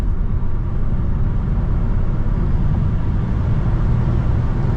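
Tesla Model 3 Performance electric car accelerating toward 100 mph. Inside the cabin, a steady, loud low roar of road and wind noise continues throughout, with no talking.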